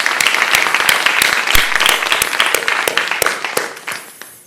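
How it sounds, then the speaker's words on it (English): A large audience at a university graduate research competition breaks into sustained applause, dense overlapping claps that stay loud throughout and thin out toward the end. "So can we go ahead and applaud the College of Liberal Arts and Sciences?"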